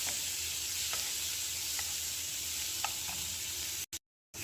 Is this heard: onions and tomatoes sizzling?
yes